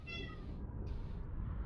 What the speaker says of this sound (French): Je sais pas si vous entendez un petit miaulement, mais c'est le chat qui veut sortir.